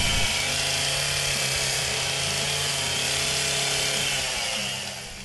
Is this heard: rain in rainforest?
no